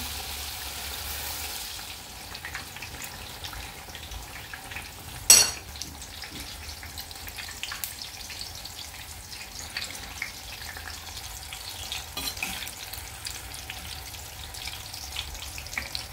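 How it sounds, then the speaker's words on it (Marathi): Ridge gourd bhaji fritters deep-fry in oil with a soft, continuous bubbling sizzle, broken by a sharp clank of a utensil near the start and lighter knocks later. "आता हे काढून घेते मी, छान तळून झालेले तुम्ही बघू शकता।"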